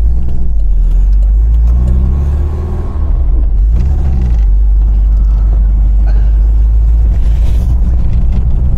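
A 1979 Volkswagen Bay window camper on the road, heard from inside as a loud, constant low engine rumble and road drone with slight shifts in tone, with some talking.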